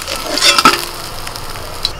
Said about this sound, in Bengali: এপিট ওপিট উল্টে মাছগুলোকে একটু ভেজে তুলে নিচ্ছি।